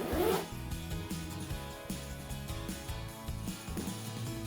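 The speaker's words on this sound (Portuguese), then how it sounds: "o zíper faz esse contorno todinho e ela abre dos dois lados" Zipper on an anti-theft backpack whose track runs around the whole edge and opens from both sides, drawn in one steady, continuous rasping pull lasting a few seconds, close up and fairly quiet.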